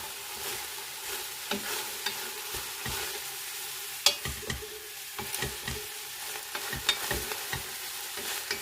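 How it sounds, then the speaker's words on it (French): A spoon stirring homemade soup with added greens in a pot, giving soft irregular scrapes and knocks over a faint steady sizzle, close and fairly quiet, with no talking. "On va mélanger tout ça."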